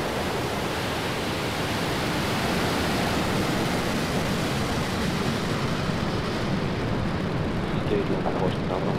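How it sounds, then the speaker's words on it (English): A SpaceX Falcon rocket lifts off on its first East Coast polar launch, producing a continuous, dense, broadband roar that stays loud and unbroken throughout. "And liftoff of Falcon's first East Coast polar launch"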